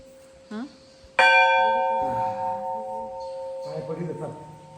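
A temple bell is struck once, ringing out loud and close with a long, sustained metallic tone that slowly decays while family members talk over it.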